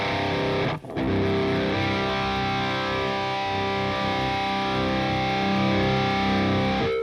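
Heavily distorted electric guitar through a Freeman amp simulator from Audio Assault Amp Locker chugs and rings out loud and thick, with a brief break near the start before sustained crunchy chords.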